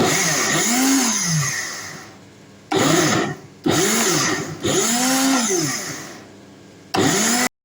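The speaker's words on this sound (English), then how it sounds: "I just put a little water in my blender to rinse it out" A kitchen blender rinsed with a little water whirs in several loud, close bursts, its motor rising and falling in pitch with short pauses between runs.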